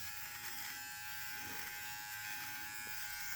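A Philips OneBlade QP2724 electric beard trimmer runs steadily with a continuous high buzz throughout, close and fairly quiet, with no talking.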